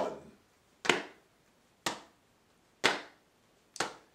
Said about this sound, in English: With your left hand, pat your left thigh